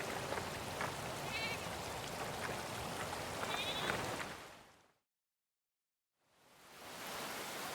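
Wild goats of an ancient breed bleat repeatedly on a Scottish shore, their wavering calls sitting over a steady hiss of wind and rain before the sound drops out briefly and returns.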